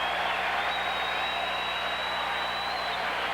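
A crowd applauds at the 1995 BPAA US Open bowling championship, a dense and continuous clapping roar that stays strong and even throughout.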